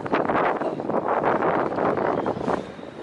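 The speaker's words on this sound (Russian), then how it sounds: "Как обычно, сегодня сильный ветер." Strong gusting wind buffets the microphone outside a UAZ car dealership in Minsk, with a continuous roaring rush, loud and unbroken throughout.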